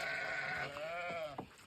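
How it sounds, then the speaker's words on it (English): Lambs bleating on a farm at feeding time, several wavering cries close by, one long call then two shorter ones, with no talking. "Oh, lambs!"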